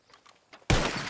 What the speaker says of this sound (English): you shot a bottle